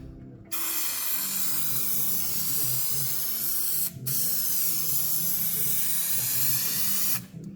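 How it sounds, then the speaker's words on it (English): An aerosol can of contact adhesive sprays in long continuous hissing bursts during a MAN TGE van conversion, three of them with brief pauses between, loud and close. "I brought the Dodo contact adhesive and then just spray it on"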